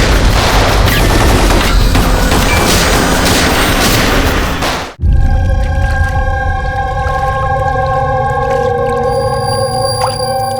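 Rapid gunfire in a tense action scene: a dense burst of shots for about five seconds, then an abrupt cut to quieter tonal sound with a lingering hum.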